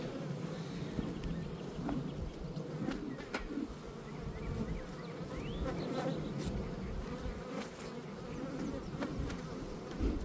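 Honeybees buzz steadily around an open beehive during a summer hive check, a dense continuous drone with individual bees zipping close past, no talking.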